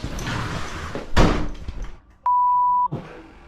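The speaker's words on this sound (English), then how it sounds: "a door suddenly began moving on its own before slamming shut with tremendous force" A door slams shut with a heavy, forceful thud amid frightened talk, followed by a sustained electronic beep.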